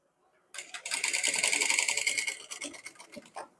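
A sewing machine stitches piping onto a kurti neckline. It runs steadily and up close for about three seconds, then slows into a few short final bursts of stitching, with no talk over it.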